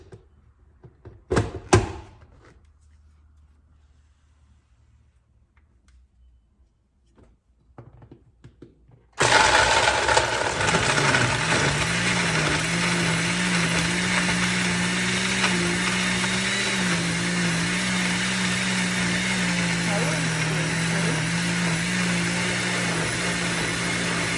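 Blender whirring steadily at close range, mixing a sea moss and fruit smoothie, starting abruptly after a few clunks and handling sounds and running loud and unbroken to the end.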